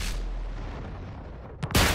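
Artillery fire in World of Tanks on Xbox 360, a single loud sharp blast near the end, preceded by a softer crack, after a low rumbling ambient lull.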